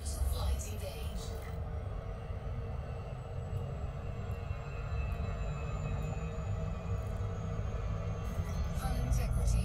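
Spaceship in orbital flight in the Elite Dangerous video game, a steady low engine rumble and broadband roar holding at an even level throughout, with faint tonal whines above and a short chime near the start.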